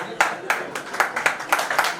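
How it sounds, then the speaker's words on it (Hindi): At a Rotary Club installation ceremony, an audience claps in a fairly rhythmic, loose beat, with moderately loud, close claps in repeated bursts throughout. "एक बार जोरदार तालियों के भी स्वागत।"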